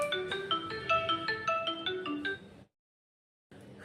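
A phone ringtone plays a bright, repeating electronic melody for about two and a half seconds, then stops briefly before another ring begins, loud and close, with no talk over it.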